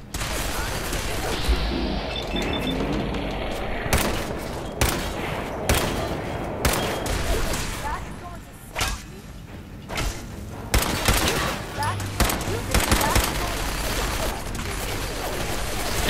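Minigun fire in the Fallout 4 video game, sustained bursts of rapid gunfire with booms and mechanical clatter, loud and intermittent, broken by brief pauses and heard alongside talk.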